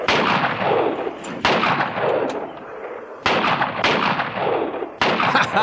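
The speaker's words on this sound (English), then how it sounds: "He was getting shot at." Three loud, sharp gunshots from the film Hillbillys In A Haunted House ring out about two seconds apart, each with a long, booming, echoing tail, and no talking.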